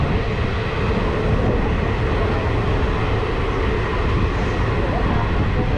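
A passenger train on the Nilambur–Shoranur line in Kerala rolls through forest, its steady, loud rumble and wheel roar filling the scene continuously, as if heard from inside a carriage.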